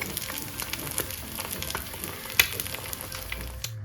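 An egg frying in a little oil on a non-stick tawa pan gives a steady, close sizzle with a crackling hiss all the way through and one brief sharper pop near the middle.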